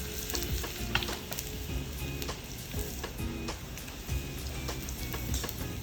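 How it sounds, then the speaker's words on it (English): Cumin seeds and julienned ginger sizzling in hot ghee in a pan, a steady crackling fry with small irregular pops throughout, fairly quiet and without talk. "let this sizzle for a while."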